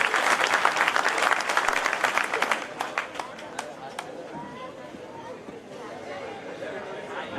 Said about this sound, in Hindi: पूरा सदन आकाश भर जोरदार तालियां जरा बजा